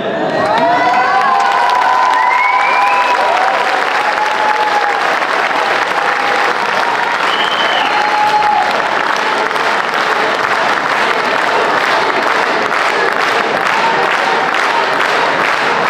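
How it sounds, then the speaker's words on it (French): A crowd applauds and cheers at a municipal election campaign rally in Roubaix, loud, sustained clapping with shouts and whoops rising above it, steady for the whole stretch. "quand elle allait dire Sherazade Bentorki, ça allait applaudir"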